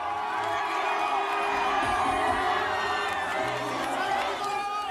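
Dense crowd cheering, whooping and shouting as Guinean president Alpha Condé arrives at an outdoor concert by the Seine, a steady loud roar of many voices throughout.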